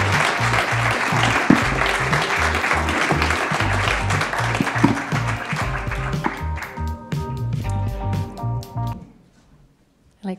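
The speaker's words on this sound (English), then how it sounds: "everyone join me in a round of applause for this year's winners" An audience at an innovation prize ceremony claps for the prize winners, loud sustained applause that thins out and fades to near silence at the end.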